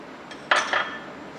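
A spoon or container clinks sharply twice against a cooking pot as lemon juice and ginger garlic paste are added to meat, brief metallic chinks in an otherwise quiet kitchen.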